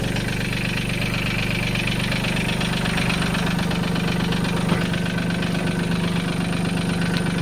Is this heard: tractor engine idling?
yes